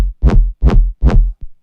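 Heavy synth bass from a Serum-designed drop, three loud rhythmic wobbling hits of similar length, each swelling and cutting off, with a short clipped fourth stab at the end and no voices.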